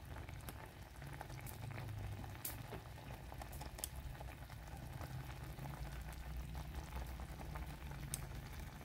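Water boiling in a pan while cooking green bananas, a soft continuous bubbling and gurgling with faint crackly pops, steady and fairly quiet throughout, no talking.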